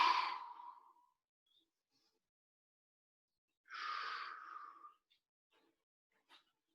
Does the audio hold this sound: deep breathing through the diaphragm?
yes